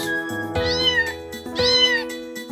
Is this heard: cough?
no